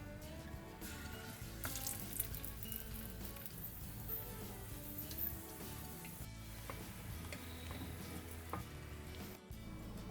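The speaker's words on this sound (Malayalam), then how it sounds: "നമുക്ക് ചിക്കൻ വറക്കാം." Chicken fries in oil with a steady close sizzle and bubbling, broken by scattered crackles and a few scraping clicks, no voices.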